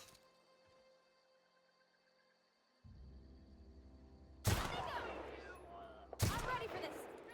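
Two sharp, loud gunshot bursts ring out while a gun is tested in the video game The Outer Worlds, the second a moment after the first, each over a steady low rumble of game ambience.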